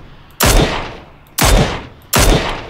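Three loud, close gunshots ring out at roughly one-second intervals in a PUBG match, each a sharp crack with a short decaying tail.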